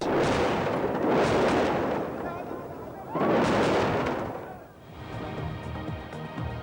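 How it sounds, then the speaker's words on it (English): Two big rolling explosions boom and rumble several seconds apart over Iraq, followed by quieter distant popping of anti-aircraft fire, with a voice talking underneath. "Explosions and anti-aircraft fire over Iraq."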